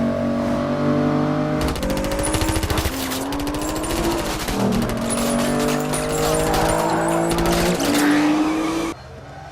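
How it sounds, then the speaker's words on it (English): An Aston Martin DBS roars at speed through a tunnel in a film car chase, a loud continuous engine note climbing through gear changes, with dense rattling, crashing mechanical noise and tire squeal layered over it until it cuts off abruptly. "the glimpses of the car speeding through the tunnel before the action starts"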